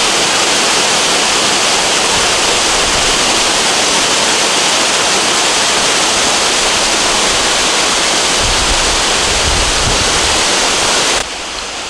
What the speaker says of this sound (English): So this is Clachtoll Waterfalls.